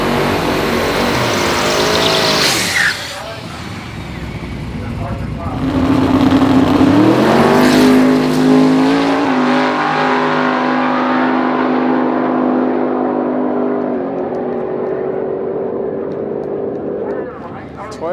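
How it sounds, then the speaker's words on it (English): A 2JZ-powered Toyota Soarer drag car at a King of the Street event roars loudly as it launches and accelerates hard, its engine note climbing and then fading down the strip, with people talking over the noise. "Toyota Sauras aren't something we regularly see at the track. This one behind me just ran 8:27. 2JZ obviously powered."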